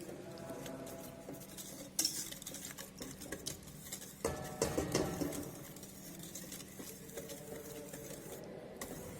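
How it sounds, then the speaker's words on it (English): Egg and caster sugar mixed in a bowl over a double boiler for a Genoese sponge, producing irregular close clinks and scraping of utensil against the bowl, with a busier burst of rapid stirring midway, no talking. "Here we have taken the double boiler, and now we are going to mix it."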